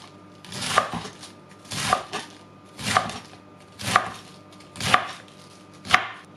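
A knife chopping cabbage on a cutting board for a German-style salad, six evenly spaced firm chops about a second apart, close and clear with no talk.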